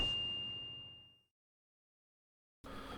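A single bright notification bell ding rings out clearly and alone, then decays smoothly into about a second of silence before other sound resumes.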